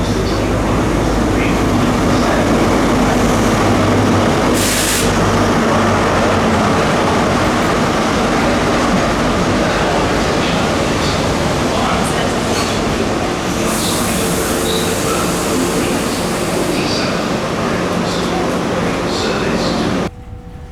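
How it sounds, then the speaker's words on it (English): Onboard a Great Western Railway train running near Keyham, Plymouth, a steady rumbling roll of wheels and carriage noise continues throughout, with a brief louder burst near the middle and the sound dropping away at the very end. "I'm on the Great Western Railway train going through Keyham"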